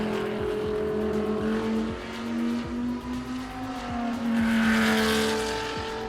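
A Bentley Continental GT3 race car at Sepang International Circuit in Malaysia roars past, its loud engine note rising and falling through gear changes, with a brief tire squeal and no voices.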